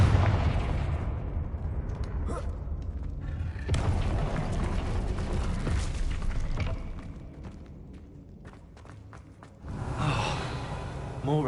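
Hogwarts Legacy Confringo fire spell explosions in a video game: deep, booming blasts with sharp onsets near the start and again late in the clip, over a continuous roar of fiery, crackling combat noise.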